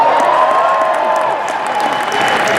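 Convention panel audience at San Diego Comic-Con 2013 applauding, a loud, continuous roar of clapping and crowd noise filling the room at close range with no break.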